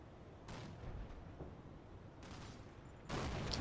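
Machine gun fire hitting a half-track in a war strategy game, faint distant bursts of rattling shots in a few separate clusters, the last one louder and closer.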